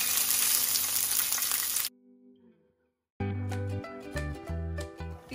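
Cashew nuts fry in hot oil with a loud, hissing sizzle for about two seconds, then it cuts to near silence before music starts.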